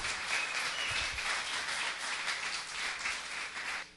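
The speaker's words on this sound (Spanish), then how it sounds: "el aplauso con gusto, con gusto" Steady applause from a church congregation fills the room, a dense wash of clapping that holds evenly and then cuts off abruptly at the end.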